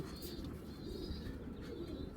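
A khaki male game pigeon cooing in a steady low, continuous burble, soft and close, with faint higher chirps from other birds nearby.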